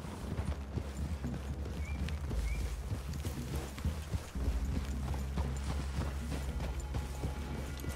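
Horses walking in Red Dead Redemption 2, with steady, fairly faint hoof clopping on the ground in a loose, continuous rhythm and an occasional soft snort.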